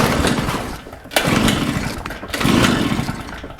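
A Shindaiwa EB802RT backpack blower engine runs loud and close, its rough roar rising and dipping in uneven surges from a fault that makes it die on acceleration.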